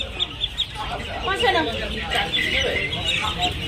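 Chickens and chicks cluck and peep close by at a busy poultry and duck market, with sharp overlapping calls throughout and people talking among them.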